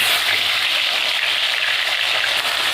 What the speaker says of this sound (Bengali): মাছগুলো খুব বেশি ভাজবো না, আমি হালকা হালকা করে ভেজে নেব।